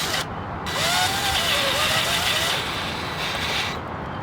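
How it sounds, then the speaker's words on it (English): A power drill, bit dipped in grease, bores through a metal Chevy Cruze part with a loud, steady grinding whine that rises and falls slightly, close up and without talking. "So let's go ahead and drill it out."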